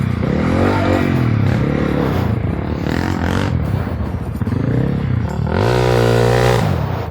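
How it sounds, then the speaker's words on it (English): Group of quads or side-by-sides riding somewhere nearby off-road, engines droning and revving in overlapping rising and falling waves, fairly close and loud throughout. "there's a group of quads or side by side somewhere out here"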